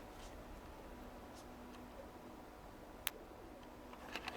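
Pigeons coo softly during an evening feeding outdoors, a faint low murmur against steady background hiss, with a single sharp click partway through.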